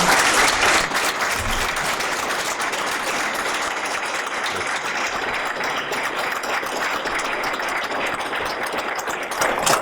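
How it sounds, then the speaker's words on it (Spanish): An audience in a lecture forum applauds to send off a distinguished visitor, sustained dense clapping from many hands that stays loud and steady throughout. "Damos un aplauso para despedir a nuestro distinguido visitante"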